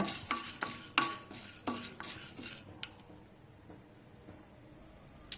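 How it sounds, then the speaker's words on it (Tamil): Roasted gram dal dry-roasting in a pan, heard as a quiet scene of sharp metallic clinks and scrapes from a stirring spatula, spaced irregularly, with only a faint sizzle. "பொட்டுக்கல்ல வந்து ஒரு கால் கப் எடுத்துருக்கேங்க அதுவும் நல்லா வறுத்துக்கோங்க ஒரு நிமிஷம் வறுத்துக்கோங்க"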